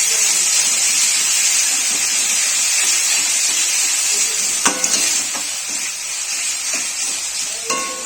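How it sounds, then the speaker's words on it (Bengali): Ginger garlic paste sizzles in a kadai of frying oil for a winter potato dum. A loud, steady hiss fills the whole stretch, broken by a few sharp clicks of stirring. "এটা আদা রসুনের পেস্ট দিয়ে দেবো।"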